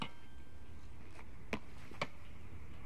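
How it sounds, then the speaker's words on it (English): Two crisp pops of a tennis ball struck by a racket, about half a second apart, over a quiet hissy background. "Oh, you use rackets to play this game. That's a tennis game."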